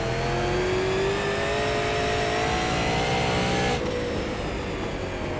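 A Super Late Model race car engine at New Smyrna Speedway in the iRacing sim, a loud steady drone that holds its pitch, then drops sharply near the end as the throttle lifts, with no voices.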